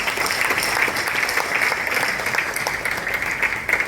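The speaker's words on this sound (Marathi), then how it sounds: "जोरदार टाळ्या" Sustained loud applause from a crowd, dense clapping that holds steady throughout with no pauses.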